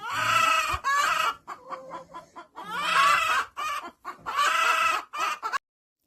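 A Leghorn hen about to lay eggs gives loud, harsh drawn-out squawks broken by short rapid clucks, close by, with no other sounds.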